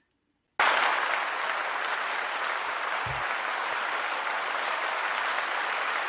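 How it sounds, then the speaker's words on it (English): A canned clapping sound effect bursts in abruptly after a moment of silence, then holds as a steady, uniform crowd applause to the end, with a brief low thump partway through. "I laugh at this clapping sound effect every time."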